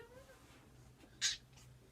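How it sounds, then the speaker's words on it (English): A cat gives one short, faint meow in an otherwise quiet room, with a low hum in the background. "That was our cat."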